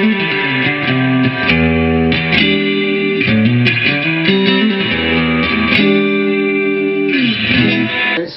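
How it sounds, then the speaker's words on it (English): Clean electric guitar chords from an Epiphone Wildcat through a Session Sessionette 75 amp ring out with reverb three-quarters up on the clean channel, a lush, spacious tail, strummed steadily and loud with no voices. "That's the reverb 3/4 of the way on the clean channel."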